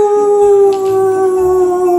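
Two dogs howling together, a loud sustained steady howl holding one pitch for about two seconds close to the microphone, with a faint second voice underneath.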